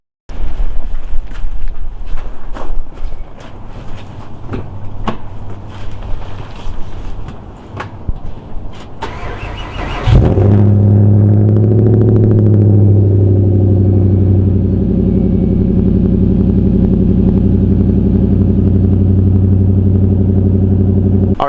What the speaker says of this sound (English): let's get a straight pipe cold start on our 2007 Volvo S80 V8.